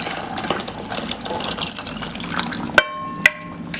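Cooked lentils and water pouring steadily into a pot with a soft gushing splash, followed by two sharp metallic clinks near the end, while making sambar.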